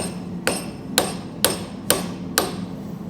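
A hammer drives down a ball in an RCV axle during a rebuild. Five evenly spaced sharp metallic strikes sound close by, with no talk.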